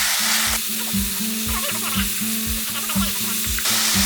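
Steady sizzling as chili peppers stir-fry in a hot pan, with rhythmic scraping as they are stirred over and over, close and fairly loud, no speech.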